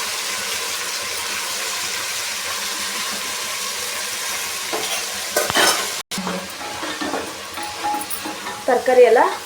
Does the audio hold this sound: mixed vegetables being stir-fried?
yes